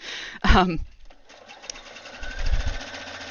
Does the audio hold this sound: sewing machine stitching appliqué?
yes